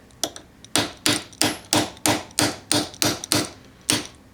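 A hammer taps a steel punch to drive out the trigger shoe pin of a Glock pistol: about nine sharp, ringing metallic strikes in a steady rhythm, close and loud, with no talking.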